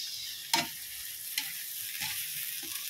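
Shrimp fry in a pan with a steady hiss while a utensil stirs and scrapes through them, giving a few distinct scraping knocks over the continuous sizzle, no talking.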